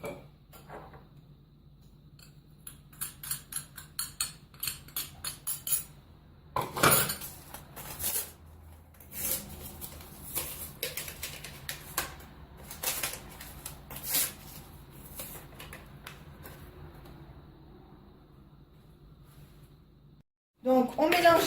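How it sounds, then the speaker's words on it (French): A whisk rattles quickly against a bowl, beating eggs, vanilla sugar and cornstarch into a custard base, in a series of rhythmic metallic clicking bursts at close range with pauses between. "on mélange bien à l'aide d'un fouet pour obtenir une pâte un peu homogène"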